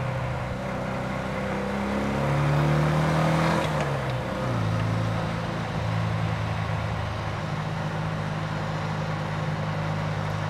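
A 60-horsepower Porsche 356 B drives along with its engine droning steadily, the pitch rising and falling as it accelerates through the gears, with no talk over it.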